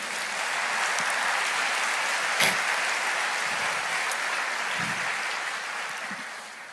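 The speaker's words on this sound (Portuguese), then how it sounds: "Você pode aplaudir o Senhor?" A church congregation applauds in a sustained wash of clapping, with a few sharper claps and shouts standing out before it slowly fades.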